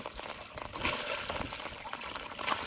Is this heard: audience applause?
no